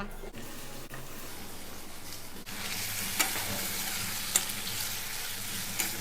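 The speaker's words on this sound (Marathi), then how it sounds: "कढाई पण आपण रेडी केली तापून घेतलाय आणि त्याच्यामध्ये तेल टाकलंय बघा तेल टाक आता या बटाट्याना आपण फ्राय करून घेऊया" Potatoes fry in hot oil in a kadhai, giving a steady, even sizzle throughout with a few small sharp pops and clinks of stirring rising above the hiss.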